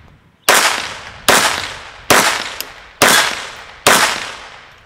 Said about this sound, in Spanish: Vamos a hacer unos disparos con la pequeñita también.